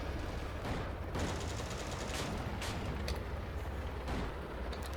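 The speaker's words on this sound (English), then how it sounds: "There's still cannon fire." Tank cannon fire in a Steel Fury battle with Panther tanks, repeated booming shots and rumbling at varying distances over dense continuous battlefield noise.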